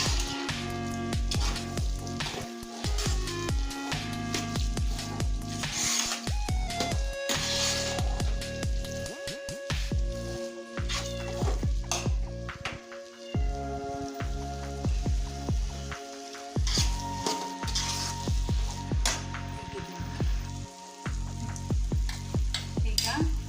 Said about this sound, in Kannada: ತಳ ಹತ್ತದ ಹಾಗೆ ಇದನ್ನು ತಿರುಗಿಸ್ತಾ ಇರಬೇಕು.